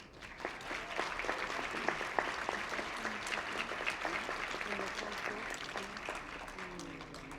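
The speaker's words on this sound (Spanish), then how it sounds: "Un aplauso." An audience at the Guadalajara International Book Fair (FIL) 2016 applauds a presentation: sustained crowd clapping with distinct individual claps, holding fairly level throughout, with voices murmuring underneath as it fades toward the end.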